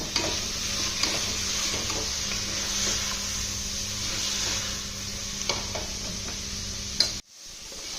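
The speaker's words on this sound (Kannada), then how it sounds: "ವೆಜಿಟೇಬಲ್ಸ್ ಎಲ್ಲ ಕ್ಲೀನಾಗಿ ಫ್ರೈ ಆಗಿದೆ" Beans, carrot and capsicum fry with biryani powder and coriander powder for methi biryani, a steady close sizzle with occasional light spatula ticks, ending abruptly.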